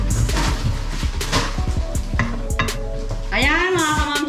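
Garlic sizzling in a pan for pancit bihon, steady frying hiss under repeated scraping and stirring clatter of a utensil against the pan, with a brief voice near the end.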